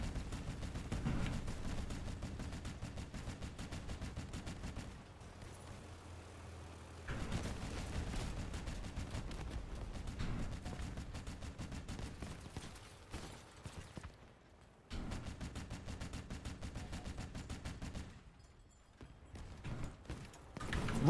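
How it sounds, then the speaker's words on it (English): In a video game, rapid gunfire rattles in steady bursts aimed at the player, continuous and fairly faint, broken by brief pauses. "He's shooting me directly."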